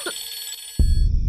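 A telephone rings with a bright electronic tone that breaks off abruptly into a louder low rumble of background noise.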